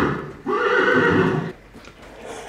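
A horse lets out a loud, close neigh lasting about a second, tapering off into quieter background noise.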